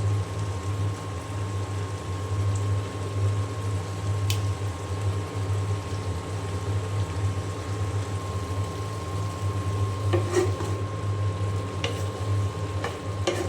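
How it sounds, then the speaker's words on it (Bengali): Bitter gourd bhaji fries in an uncovered pan with turmeric and salt, giving a steady close sizzle and hiss over a low hum, with a few scraping stirs and clinks toward the end. "এখানে যে ওস্তা ভাজিটা হচ্ছে, আমি কিন্তু ঢাকবো না"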